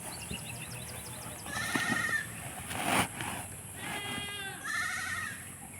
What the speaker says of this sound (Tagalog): So, tinatawag na tayo ng kambing.